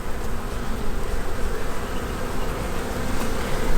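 Honey bees buzz inside a hive as a dense, continuous swarm drone, close and moderately loud, with no voices.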